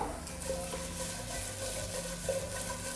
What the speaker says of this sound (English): I see onions are browning up.